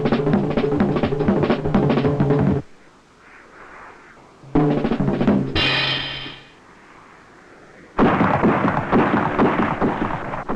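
Loud roaring rockets fired from the wing pylons of an Alpha Jet, in bursts, each a harsh broadband blast lasting a few seconds, separated by quieter gaps with distant rumble.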